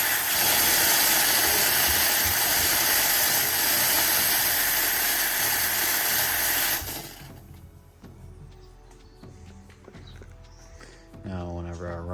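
Steam hisses loudly and steadily from a pressurised boiler set at 253 for about seven seconds, then cuts off abruptly, leaving quieter clanks and a brief voice near the end.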